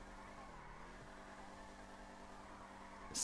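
Car engine in a video game, a steady mid-pitched hum with layered tonal harmonics, rising slightly as it accelerates, heard alone, with a brief bright burst at the very end.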